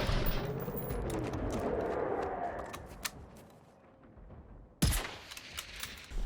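Gunfire from the Älgstudsare hunting rifle in the video game Generation Zero, with a rumbling, crackling stretch that fades and then one sudden loud shot near the end.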